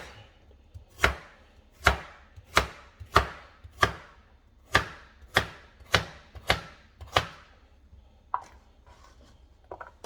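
A knife chops carrots into quarter-inch slices on a cutting board, about a dozen crisp, close thuds spaced roughly a second apart, then a few faint lighter taps.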